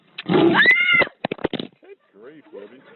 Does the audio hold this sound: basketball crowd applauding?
no